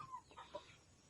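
Native laying hens cluck softly and faintly in a coop near a nesting box, with two short low clucks in quick succession.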